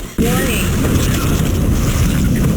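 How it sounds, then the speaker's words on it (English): A rocket launcher blast from the first-person shooter Dusk, a sudden loud boom that cuts in and rolls on as a sustained, roaring rumble of explosion noise, close and heavy. "it looks very similar to the rocket launcher, which in Dusk is called the Riveter"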